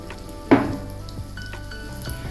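Coriander, cumin and sesame seeds roast in a little oil in a pan over a low flame, giving a soft steady sizzle with one sharp clink of a utensil against the pan near the start.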